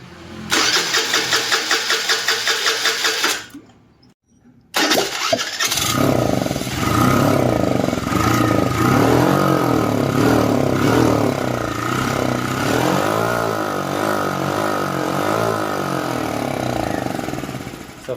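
A BS6 scooter with no carburetor or fuel injector is cranked on its self-starter, a rapid whirring churn that breaks off, then catches into a loud, steady running engine held close for many seconds.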